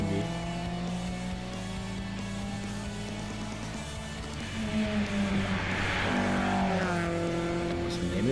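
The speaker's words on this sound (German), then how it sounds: "Auch schön quer, so wie sie sich gehört mit seinem heckbetriebenen BMW." An orange rear-wheel-drive BMW rally car slides sideways past at an autumn rally, its engine loud and steady with rising and falling pitch and rougher broadband tire and gravel noise building toward the end.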